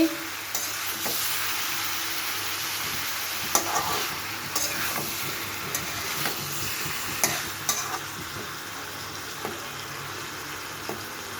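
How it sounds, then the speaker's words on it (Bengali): Pumpkin frying in a pan sizzles steadily while a spatula scrapes and stirs it at intervals, close and clear with no talking. "আবার ঢেকে দিচ্ছি আবার একটু নেড়ে দেখে দিচ্ছি"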